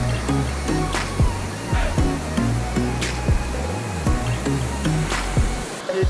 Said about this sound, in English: Waterfall after waterfall.